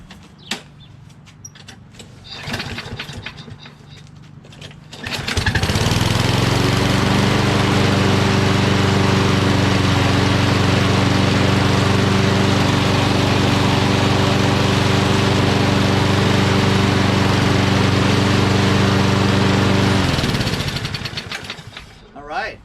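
A Toro Recycler XT675 self-propelled lawn mower with a Kohler engine, after sitting for a couple of days, cranks and fires up. It then runs loud and steady at close range for about fifteen seconds before cutting off, with a person speaking before it starts.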